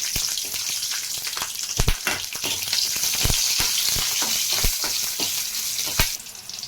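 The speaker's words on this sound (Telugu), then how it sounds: "ఇప్పుడు ఫ్రై చేసుకుందామండి మూగుడు పెట్టి ఆయిల్ వేసుకున్నామండి పచ్చి వేసుకున్నాం" Green chillies frying in hot oil in a pan for a brinjal curd chutney, a steady loud sizzle with sharp spattering pops throughout, close up and without talk.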